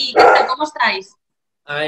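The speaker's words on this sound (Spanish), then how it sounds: "ese es mi perro" A dog barks loudly at close range, a quick run of sharp yaps, while people greet each other over it.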